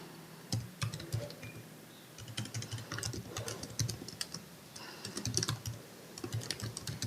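Rapid bursts of keystrokes clatter on a computer keyboard during a web server setup, uneven clusters of clicks with short pauses, close and fairly quiet with no talk.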